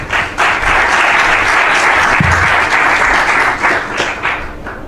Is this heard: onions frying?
no